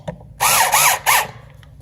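Power screwdriver driving screws to tighten a loose electrical outlet, heard as three short close bursts of whirring motor, each under half a second, with quiet pauses between.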